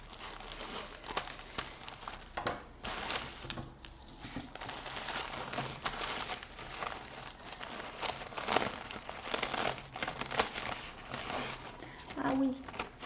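Crinkly plastic packaging is unwrapped and handled, giving continuous rustling and crumpling close by, with a person speaking French quietly over it.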